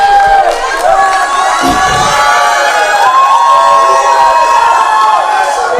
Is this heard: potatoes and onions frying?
no